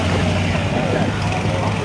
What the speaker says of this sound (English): 1956 Chevy Fenderwell Exit Headers. Street racing on the trailer. Small block Chevy powered.